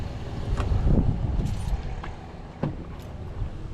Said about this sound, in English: God, that Cummins just sounds so good.